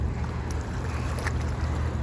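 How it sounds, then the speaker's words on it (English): A cruise ship's low, steady rumble carries across the water near a marina, a constant drone heard under light wind with no voices. "The cruise ship is making that noise"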